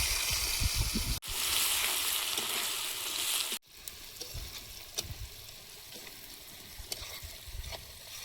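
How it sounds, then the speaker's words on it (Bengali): Crushed garlic fries in oil in a wok for chicken biryani, a bright hiss that swells loudly for a couple of seconds, then drops to a softer, steady sizzle with faint stirring knocks. "এখন তেলের মধ্যে দিয়ে দেবো থেঁতো করা রসুন"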